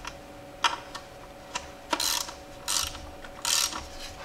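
A ratchet wrench loosens a nut on a Jeep 4.0L engine, with short clicking bursts and brief ratcheting runs under a faint steady hum.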